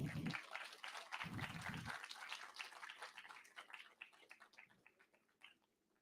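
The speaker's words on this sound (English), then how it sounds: "A round of applause, everyone." An audience applauds at an academic brownbag session as a professor comes on stage for a gift exchange, the clapping starting thick and fading into scattered claps, with a brief voice near the start.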